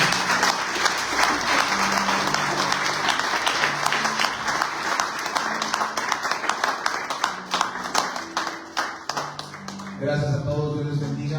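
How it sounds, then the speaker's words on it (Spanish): A church congregation applauds together in sustained, dense clapping with audible individual claps, a low organ or keyboard note held underneath, and a voice speaking over it near the end. "Denle un aplauso al Señor"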